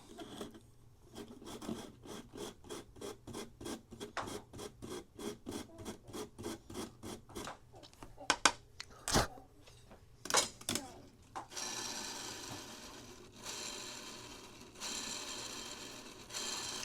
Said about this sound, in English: I'm going to square up that insert on that sandpaper on the mod saw